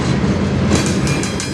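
A CN manifest freight train pulled by locomotives 2928 and 3834 rolls past in Sarnia. Its steady, heavy rumble fills the clip, with rhythmic clickety-clack from the wheels and high rail hiss, and no voices.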